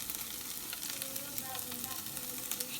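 Ground cumin and crushed spices sauté in a pan, giving a steady, close crackling sizzle with small popping bursts throughout, no voices over it.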